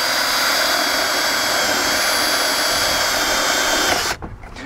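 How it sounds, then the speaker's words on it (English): A power drill bores a 3/8 inch hole through a truck bed or similar mount for a cooler lock, a steady loud whine running continuously for about four seconds before cutting off abruptly as the bit breaks through. "Go ahead and drill this out."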